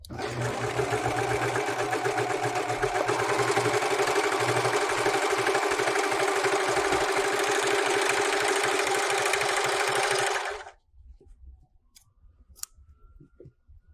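A serger sewing machine runs continuously for about ten seconds, stitching and trimming a fabric edge with a fast, even mechanical whir and rattle, then stops abruptly, leaving a few faint clicks and handling noises.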